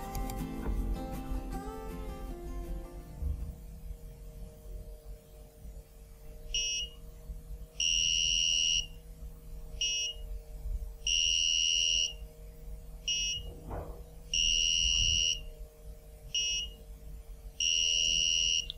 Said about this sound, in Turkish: Arduino kartımızda buzzer uygulamasını yaptık. Çıkan sesleri duydunuz.